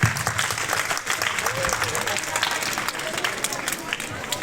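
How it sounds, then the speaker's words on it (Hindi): An outdoor village crowd at an Ambedkar Jayanti celebration breaks into continuous, lively clapping, a dense, fairly loud wash of hands with crowd murmur and voices underneath. "गुड़िया के लिए जोरदार तालियां"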